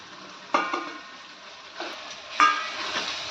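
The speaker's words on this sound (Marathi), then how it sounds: "सर्व मिक्स करून घ्यायचे मसाले" Spices being stirred into tomatoes frying in a pan for dal khichdi, with a steady soft sizzle and a few distinct scraping stirs of a spoon against the pan.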